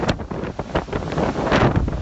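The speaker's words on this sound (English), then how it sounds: "This Hurricane Irma, North Iowa, winds gusting 125." Hurricane Irma's winds, gusting to about 125, roar and buffet the microphone in loud, continuous turbulent blasts, with surges of rushing air and no break in the noise.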